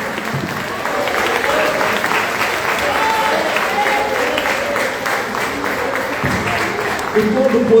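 A church congregation claps together in sustained, dense applause that holds steady throughout, with voices and cheers mixed into the crowd noise.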